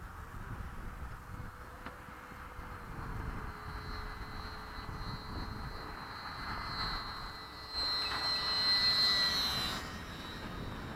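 An FMS Hawk 80mm EDF radio-controlled jet flies at full throttle, a steady whining ducted-fan roar that swells louder and higher near the end as it passes close.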